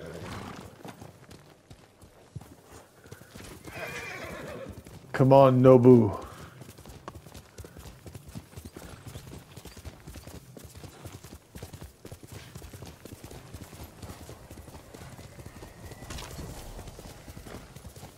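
A horse in the video game Ghost of Tsushima clip-clops along with rapid hoofbeats throughout and gives a loud, clear whinny partway through, while a person talks briefly over it.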